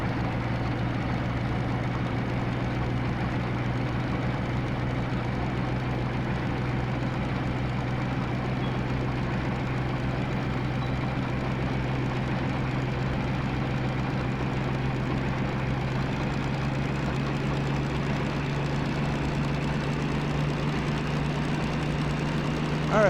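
The DM3 diesel locomotive in the Derail Valley train simulator runs with a steady, low droning engine hum that holds unchanged and continuous throughout, with no voices heard.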